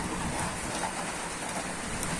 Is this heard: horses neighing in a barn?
no